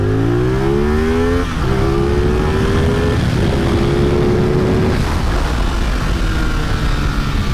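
A CF Moto 450SS motorcycle accelerating hard in first gear, loud close engine note climbing steeply in pitch, a brief drop at a shift, then revving upward again and holding high.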